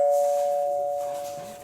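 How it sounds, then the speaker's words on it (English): A single clear doorbell chime sounds close and loud, a pure steady tone that starts at once and slowly fades over under two seconds, with no second note following. "There's also like the two-tone chime."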